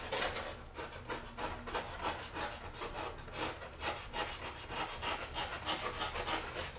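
Knife trimming a wooden part for a Horten H flying-wing model, a steady run of short scraping, rasping strokes repeating close by with no voices.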